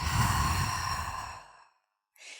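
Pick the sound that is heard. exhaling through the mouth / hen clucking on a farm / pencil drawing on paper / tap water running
exhaling through the mouth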